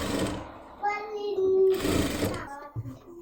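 A sewing machine runs briefly while stitching a narrow rolled hem on a top made from old trousers, its motor whirring in a short burst amid nearby voice-like sounds.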